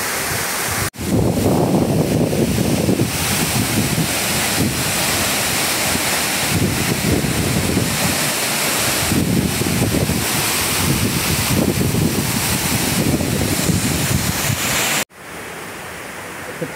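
Steady broadband roar of a waterfall on Mount Isarog, loud and continuous with slight surges, cut by a couple of brief handling thumps near the start and end.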